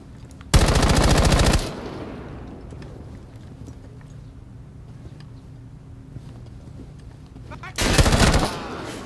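Automatic gunfire in Rainbow Six Siege: two loud rapid bursts, one lasting about a second and a shorter one later, with quieter game ambience between them.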